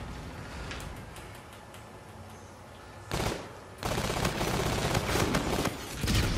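SMG gunfire in the game Call of Duty: Infinite Warfare multiplayer, a quiet spell then a short burst and a long sustained stream of rapid automatic shots, loud and close.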